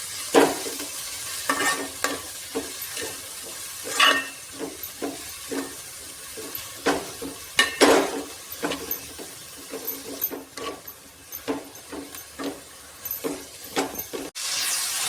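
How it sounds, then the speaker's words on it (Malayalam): Finely chopped onions sautéing for a chicken curry, stirred with a spoon in a pan: a constant frying hiss broken by frequent scraping strokes in an irregular rhythm, close and fairly loud, with no voices. "അപ്പോൾ നമ്മുടെ സവാള വഴറ്റി കൊടുത്തുകൊണ്ടിരിക്കുകയാണ്."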